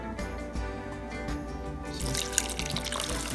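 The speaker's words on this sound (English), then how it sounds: "I'm gonna add like 2 cups of coconut milk and then 2 cups of water." Coconut milk and water pour steadily into a pot, a continuous splashing flow that grows brighter and fuller partway through, with no talking.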